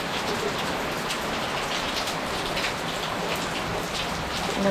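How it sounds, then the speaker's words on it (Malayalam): Heavy afternoon rain falls outside a home, a thick, steady wash of drops drumming on surfaces, close and unbroken, with no voices. "ഇപ്പോൾ ഉച്ച കഴിഞ്ഞപ്പോൾ വീണ്ടും മഴയായി കുറച്ച് നല്ല മഴയുണ്ട് കേട്ടോ"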